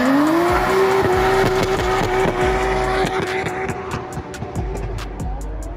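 Drift cars at Ebisu Drift Matsuri come sliding downhill at night, a sustained tire squeal with engine drone and a series of sharp, repeated popping bursts toward the end, loud and close.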